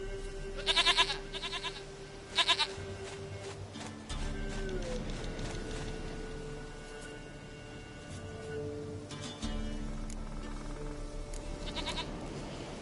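In the fantasy video game The Witcher 3, a goat gives a few short bleats amid game ambience and low background tones, fairly faint and spaced out over several seconds.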